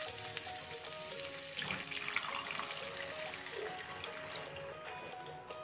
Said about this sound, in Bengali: এবার আমি এর মধ্যে দিয়ে দিচ্ছি জল।